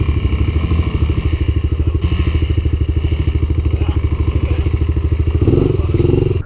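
A Bashan Brozz 250 Chinese dual sport motorcycle runs in snow with a loud, steady, throbbing single-cylinder engine note close by, revving briefly higher near the end.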